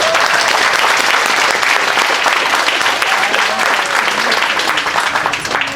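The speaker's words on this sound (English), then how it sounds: "Please give Paul and the family a round of applause." Sustained audience applause fills a grand opening ceremony at the Paseo Abeytia housing development in Phoenix, a dense wash of many hands clapping steadily and loudly throughout, tapering only slightly at the end, with faint voices beneath.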